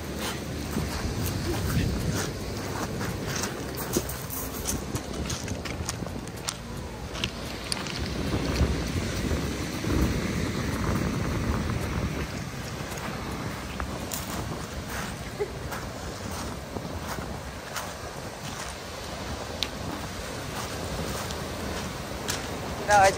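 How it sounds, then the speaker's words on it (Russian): Rough, windy seaside roar at Cape Flattery or Ruby Beach, Olympic National Park, with Pacific waves churning and breaking continuously, buffeted by wind noise on the microphone. "Вот такие волны."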